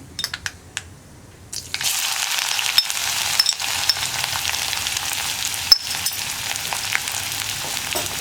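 Crushed shallots and garlic hit hot oil and sizzle loudly, a steady bright frying hiss that starts after a short quiet lead-in and carries on with small crackles and a few clinks, no voices over it.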